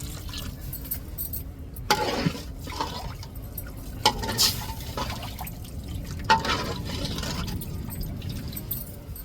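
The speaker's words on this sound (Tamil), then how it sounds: "நம்ம அவியலுக்கு தேவையான தண்ணியை சேர்த்துக்கிடுவோம்." Water poured into a pot of karal fish aviyal, a gentle liquid splash and trickle with a few brighter sloshes and clinks over a low background hum.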